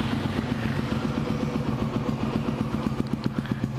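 A 2004 Honda Twister motorcycle engine running at idle, with a steady close-up putter of rapid even pulses and a light mechanical clatter.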